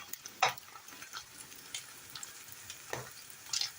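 Frog legs fry quietly in a pan as they brown on each side, a faint soft crackle with a few sharper pops and spits scattered throughout.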